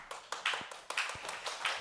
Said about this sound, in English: So let's, again, give them a big round of applause.